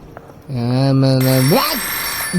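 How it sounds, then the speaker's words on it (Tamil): A telephone rings inside the horror video game Forgotten Memories, a loud close electronic ring with a steady tone that rises sharply in pitch before breaking off, with no one talking. "எவனா நேரம் கட்ட நேரத்தில் ஃபோன் பண்ணுறீங்க?"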